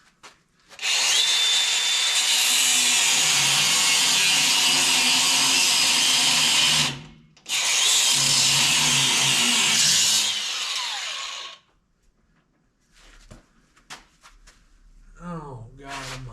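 An old angle grinder cuts through a wiring harness during removal of a stock V6 from an LS-swap S10 pickup, two long loud whining passes close by separated by a short break, then quiet with someone speaking.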